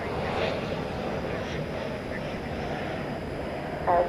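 An American Airlines jet arriving at DFW Airport at night gives a steady, broadband engine roar that holds at an even level throughout, with a brief louder swell near the end.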